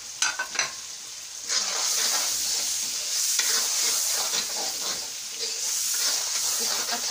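Fish and spices sizzle in a hot pan while being stirred by hand, a loud close hiss broken by scraping and shuffling strokes, with no voices.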